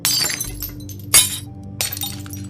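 Glass on a vending machine is smashed out with a gun in a video game, giving sharp shattering crashes with tinkling shards, one burst early, a louder one near the middle and another toward the end, over a low steady game hum.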